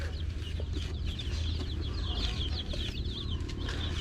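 A group of about fifteen newly bought chickens clucks and chirps continuously at close range, with a busy overlapping chatter of calls and no voices.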